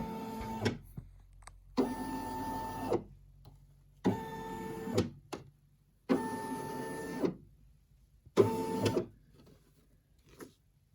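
An embroidery machine traces its design path around a hoop on a towel, giving five separate bursts of motorized whirring, each about a second long, with quiet pauses between them.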